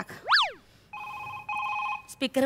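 A telephone rings during a Marathi stage comedy sketch, sounding as steady electronic ringtone tones after a quick rising and falling sweep, followed by short clattering sounds.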